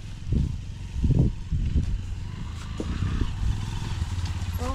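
A motorcycle engine idling and revving nearby in Nasugbu, Batangas, with a few rough surges and clattering bursts at the start, then a steady running drone.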